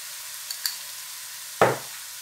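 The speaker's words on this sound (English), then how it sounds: "And give it a good stir." Spatula scraping and stirring vegetable fried rice in a pan, a couple of light taps then one sharp, close scrape, against a faint sizzle.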